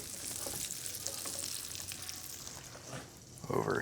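French fries and green beans sizzle loudly on a hot griddle, a dense continuous frying hiss with a brief scrape near the end.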